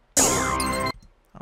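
A single clap sample from a drum kit plays in FL Studio, a bright, ringing hit with a tonal tail lasting under a second, loud and alone, then silence.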